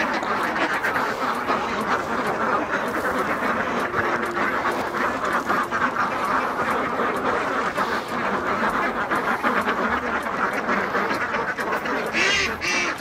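A large flock of about 500 Khaki Campbell ducks on a Sundarban farm quacks continuously in a dense, loud chorus close by, with a person speaking faintly now and then.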